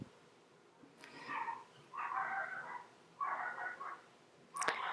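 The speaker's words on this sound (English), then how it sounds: "Sorry, my dog's barking." Dog barking indoors at a distance, a few muffled, drawn-out barks and whines in a loose series, fairly faint and unaccompanied by talk.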